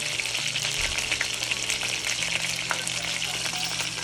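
Pieces of chicken for Jamaican brown stew sizzle in a hot pan. The frying hiss is dense and continuous with scattered pops and spatters, heard up close with no talking.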